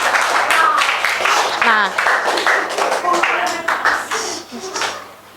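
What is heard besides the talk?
classmates clapping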